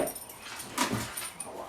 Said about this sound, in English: I don't know what's going on with Garage Puppy